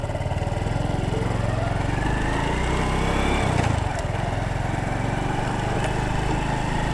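A 2013 Honda Super Cub 110cc motorcycle engine runs steadily close by, a continuous single-cylinder putter with a rapid even pulse and a brief swell partway through, with no talking.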